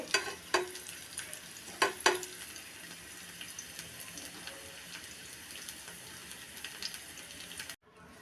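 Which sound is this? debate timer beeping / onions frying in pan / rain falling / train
onions frying in pan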